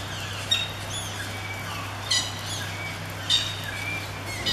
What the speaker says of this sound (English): the fork-tailed Drongo is considered an aggressive and fearless bird